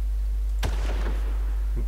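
A single sharp sniper rifle shot rings out in the Far Cry video game, followed by a short echoing tail over a steady low hum, with a faint second thump near the end.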